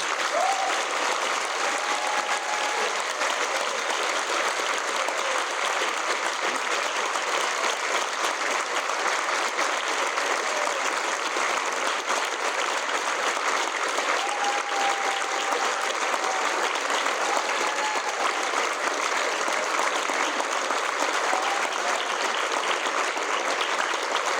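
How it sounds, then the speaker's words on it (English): Steady, dense applause from a large audience at a school event honoring graduating seniors, continuous and even from start to finish with no voices standing out. "One more round of applause for our seniors."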